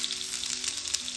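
Chopped onion fries in two spoons of hot sunflower oil with a steady close sizzle and crackle, short and alone without any talk.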